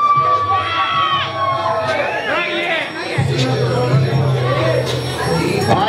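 Party crowd at an ugly sweater party in a beer and barbecue venue cheering and whooping for a contestant, loud overlapping shouts and chatter close by, with a voice talking over the noise.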